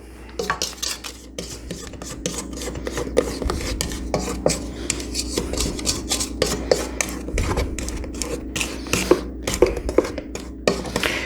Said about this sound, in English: I'm gonna give it one more scrape down.